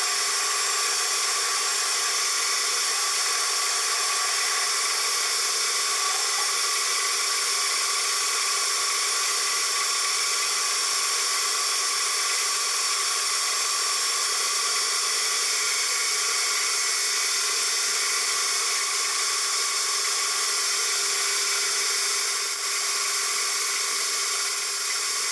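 Metal cutting on a Celtic 14 lathe during a roughing pass on a tailstock part gives a steady, continuous whine with high tonal ringing, holding even and fairly loud throughout with no talking.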